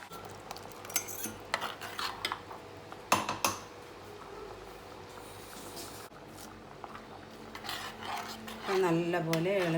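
A spoon scrapes and knocks around a pot while apple mango curry is stirred with ground coconut paste, giving irregular clinks and rubbing sounds at close range, and a voice starts speaking toward the end.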